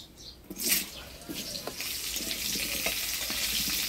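Potatoes fry in oil with whole cumin, salt and turmeric. A soft sizzle starts with a brief clatter and then swells into a continuous, close hiss. No one speaks.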